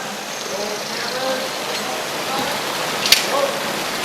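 Steady, soft hiss of falling rain from a rain machine on a film set fills the scene, with a sharp tap near the end; no speech.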